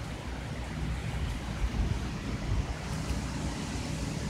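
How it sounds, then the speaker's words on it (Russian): Strong hurricane wind in America roars steadily against the microphone, a dense, low rumbling buffet with no voices. "Ветер сильный."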